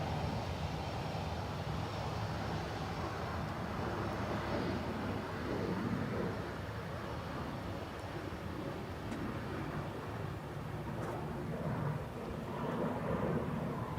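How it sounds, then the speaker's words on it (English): A Swiss Airbus A320neo airliner from Zurich at Dublin Airport in the rain, a broad, distant jet rumble that swells and ebbs slowly with wind noise mixed in, and nobody speaking. "Swiss 320 Neo from Zurich"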